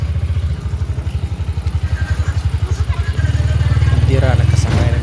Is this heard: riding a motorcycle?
yes